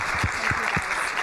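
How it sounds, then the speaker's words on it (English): Audience applause for the panel after a retail leadership discussion, a dense, steady wash of clapping filling the short moment, with a few low thumps underneath. "Round of applause for the panel."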